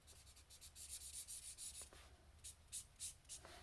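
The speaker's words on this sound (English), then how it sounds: "when you get that little sort of scrubbing noise when you colour" Pencil scrubbing roughly across paper while colouring in a tree trunk and branches, a run of close, quiet scratchy strokes in uneven rhythm with brief pauses between bursts.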